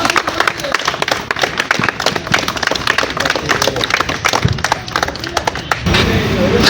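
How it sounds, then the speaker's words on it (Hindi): Audience applause at a Gorakhpur, Uttar Pradesh gathering of a village education institute, a dense run of many hands clapping steadily for several seconds, swelling louder near the end with crowd noise. "ताली बजाइए आप लोग।"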